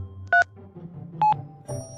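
Telephone dialing tones, two distinct keypad beeps spaced about a second apart followed by a softer third tone, clear and close against a quiet background.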